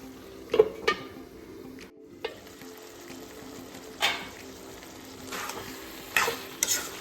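Potatoes frying in a wok over a low continuous sizzle, with sharp scrapes and clacks of a stirring utensil at irregular intervals, close by with no talk.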